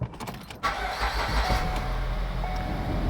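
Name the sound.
Ford Escape engine starting after motor mount replacement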